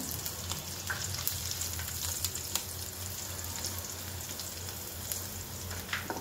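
Chopped onion, green chilies, black pepper and cumin sautéing in a pan for a spicy potato dish, a constant close crackling sizzle with sharp spits and faint stirring clicks throughout.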